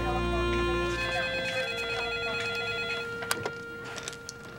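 A telephone rings with a steady electronic tone when calling a hospital, moderately loud, then fades under faint room noise with a few clicks.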